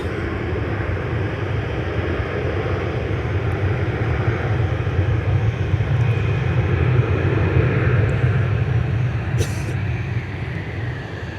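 Aircraft taxi at MSP airport in the evening, making a steady, distant rumble of jet engines with a broad low roar that swells slightly midway, heard without talk.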